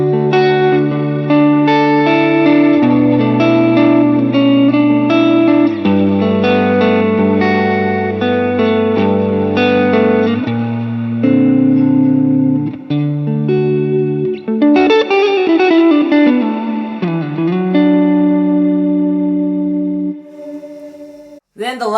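An electric guitar runs through a Boss RV5 reverb pedal set to its modulate mode, playing loud, lush, shimmering chords with a long, wavering reverb tail and a pitch-bending swell near the end.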